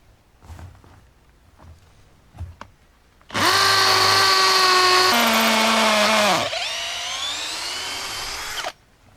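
Power drill driving a screw into wood for a dragon fruit support setup: a loud continuous whine of a few seconds that drops in pitch as it bites, then a steadier second run, after quiet handling clatter.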